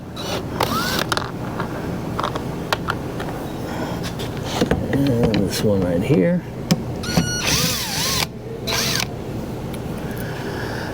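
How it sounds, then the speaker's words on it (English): Short bursts of a whirring power drill backing out screws from a Mazda CX-5 door during window regulator replacement, with a person talking between the buzzing runs. "I'm going to use this drill thing right here"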